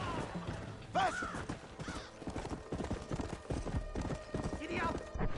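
Horse hooves clip-clop at a gallop in the Red Dead Redemption game, a steady rhythmic drumming with an occasional whinny, heard under a voice talking throughout.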